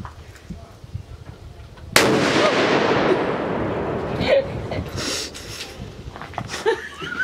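.50 caliber rifle fired at Windrock Shooting Range, one loud sharp blast followed by a long rolling echo, with quieter voices and clicks around it.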